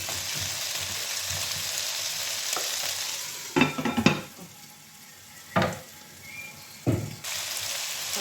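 Potatoes with onion sizzle steadily in a hot pan, with several brief scraping clatters of stirring breaking through the continuous hiss of frying.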